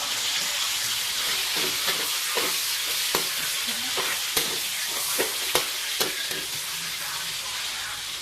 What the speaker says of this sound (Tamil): நம்ம முதல்ல வெங்காயம் போடுறோம். நல்லா வதக்கட்டும்.